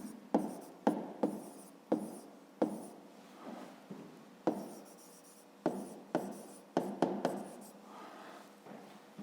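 Pen or pencil scratching on paper while working a fifth-grade math exercise by hand, a quiet close series of short strokes with brief pauses between them.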